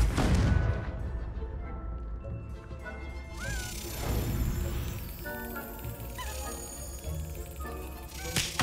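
Confringo fire spell in the Hogwarts Legacy video game, a loud crashing blast at the start followed by rumbling game effects and scattered impacts.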